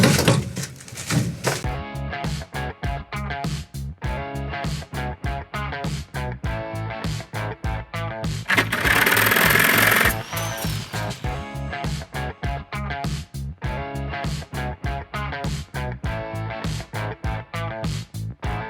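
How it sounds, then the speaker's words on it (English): A saw cutting through a metal bus body for a window opening in a conversion, rasping in a fast, steady stroke rhythm, close and loud, with a brief harsher stretch midway. "Just that saw is so hard to manage."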